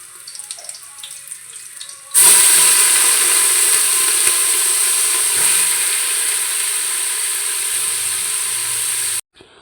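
Washed chicken hits hot seasoned oil in a pan for a village-style chicken sambar: a sudden loud, steady sizzling hiss bursts in after a quiet start and holds, then cuts off abruptly.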